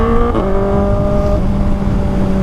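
Loud engine of a Kawasaki ZX-4RR motorcycle while riding, a close, steady high-pitched inline-four whine with a brief pitch shift near the start, accompanied by rushing wind.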